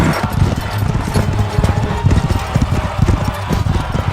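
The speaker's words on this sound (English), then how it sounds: "there appeared to their enemies from heaven 5 majestic men riding on golden bridled horses" Galloping horses with golden bridles form a dramatized battle sound effect, a dense, loud, continuous drumming of hooves with a thudding rhythm.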